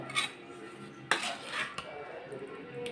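Cooked tomato chutney ingredients being transferred into a large mixer jar, with a few close metallic scrapes and clinks of a spoon against the vessel, sparse and fairly quiet, no talk.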